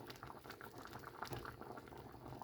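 Lentils simmering in a pot: a quiet, continuous bubbling boil with soft popping and gurgling, even in level throughout, with no voices.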